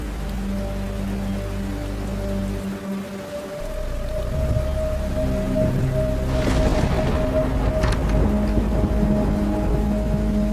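Steady rain pours at night, a dense even hiss with a low rumble that swells louder midway, alone without voices.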